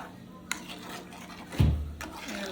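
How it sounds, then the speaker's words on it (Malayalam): A utensil scrapes and clinks against a pan while fish curry is stirred, a couple of sharp taps followed by a thicker scraping stir, close and fairly quiet. "എല്ലായിടവും ജസ്റ്റ് ഒന്ന് മിക്സാക്കി ഒന്ന് ഇളക്കി"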